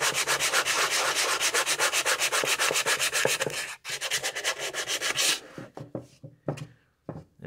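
Wood being sanded by hand over a glue-and-sawdust putty filling on a phone amp, a steady back-and-forth rubbing rhythm, loud and close, then slowing into sparse, scattered strokes near the end.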